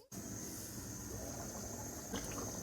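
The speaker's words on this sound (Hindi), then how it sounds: "अब हम ये पानी निकाल लेंगे।" Water poured off a pot of boiled rice, a steady gushing stream of liquid with a slight splash near the end, close by and without talk.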